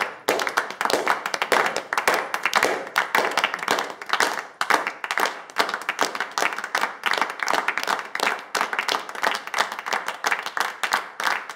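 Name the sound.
group applauding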